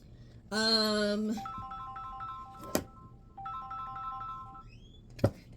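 A phone ringtone sounds alone at moderate volume, a bright harmonic tone for about a second, followed by a few short melodic notification tones with clicks between them.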